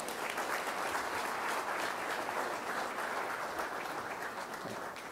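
Sustained audience applause welcoming speaker Rob Fyfe onstage at a New York event, a dense, steady clapping from a large crowd that holds evenly throughout and tapers only slightly at the end.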